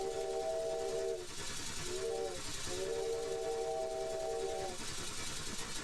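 A steam locomotive whistle in the video game Steam Engine Simulator sounds three times, a long blast, a short one, then another long one, over a steady rumbling chug of the engine.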